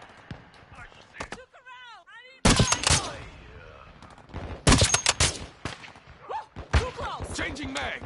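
Gunfire in the video game Modern Warfare III, loud close bursts and single cracks in several clusters, with a voice talking between the shots.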